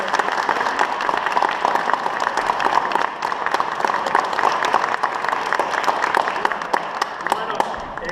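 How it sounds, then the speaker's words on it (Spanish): Audience applause for orchestra musicians at a pre-concert talk, a dense steady wash of many hands clapping throughout, moderately loud and evenly sustained with faint voices mixed in. "les pido un aplauso para los colegas"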